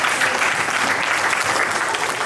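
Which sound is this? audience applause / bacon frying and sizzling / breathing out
audience applause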